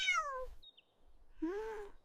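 A cat meows twice as a story sound effect, a short falling mew followed after a quiet gap by a longer, rising-and-falling meow, close and clear with no talk.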